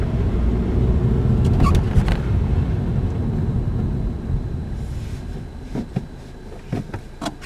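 A manual-transmission car engine rumbles low and steady during a hill start, thick with wind buffeting, easing off midway with a few light clicks and knocks.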